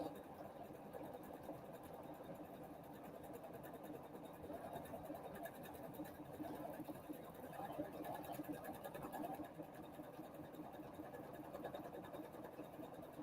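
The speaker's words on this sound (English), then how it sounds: "press the start button, and it's going to sew backwards and applique that fabric in place" A quilting sewing machine stitches an appliqué onto fabric, a quiet, steady mechanical whir with a fast, even needle rhythm, faint and unbroken throughout.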